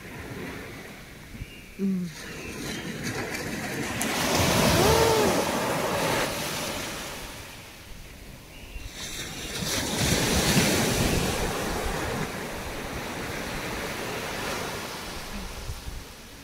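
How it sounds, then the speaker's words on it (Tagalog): Rough sea waves breaking on Pui O beach in Hong Kong, two swelling surges of surf washing in and receding, loud and broad with wind buffeting the microphone. "Pero maalon din, no?"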